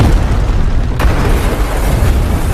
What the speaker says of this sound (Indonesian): Yang Gisu pun melemparkan granat ke dalam led